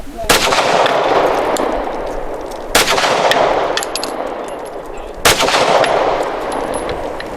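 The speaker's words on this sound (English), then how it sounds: "I'm using the slide release basically just to test functionality of the gun." A Canik METE SFX pistol fires three sharp, loud shots, each about two and a half seconds apart, with the echo of each shot trailing off before the next.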